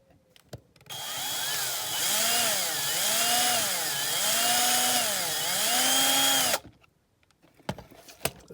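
A power drill bores out a fairly large rivet on a die-cast Corgi 309 Aston Martin DB4 model, whining steadily for about six seconds with rising and falling pitch as it bites, then cutting off into light handling clatter.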